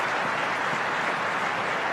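Tennis crowd at a women's final in Katowice breaking into steady applause, a dense, even wash of clapping from the stands heard clearly with no talk.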